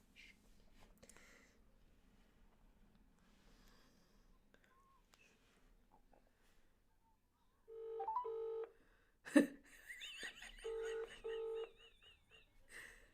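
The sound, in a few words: telephone being dialed for a loudspeaker call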